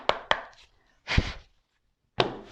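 Tarot card deck being cut and handled on a table, with a few sharp card taps and slaps followed by a longer shuffling rustle, close and alone with quiet pauses between.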